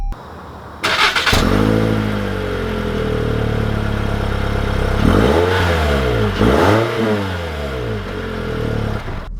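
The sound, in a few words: 2020 Toyota C-HR XLE engine accelerating as it sets off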